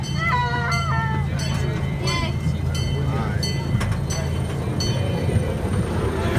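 A zoo train rumbles steadily as it pulls out of the depot, with squealing wheels and high metallic screeches rising over the constant low roar.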